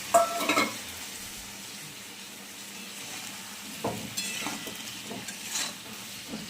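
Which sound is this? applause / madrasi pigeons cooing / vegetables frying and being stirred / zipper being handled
vegetables frying and being stirred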